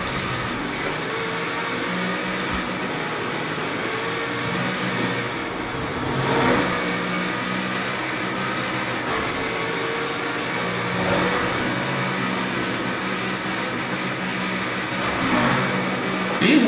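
A Corvette in the Forza Horizon 4 racing game is pushed toward top speed, its engine droning loud and sustained with rising revs and brief surges as it holds near its limit.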